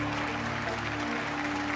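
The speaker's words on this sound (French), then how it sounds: "Oui monsieur, on peut applaudir." Applause from a studio audience on a French comedy show, a brief dense patter of clapping with a steady hum beneath.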